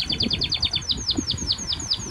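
Egrets call near a tractor in a farm field, giving a quick run of sharp, high, downward chirps repeated about a dozen times, close and fairly loud, with a low rumble underneath.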